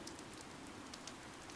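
Steady rain falls in the Fire Emblem Three Houses video game, a continuous soft wash of drops heard alone at a low, even level.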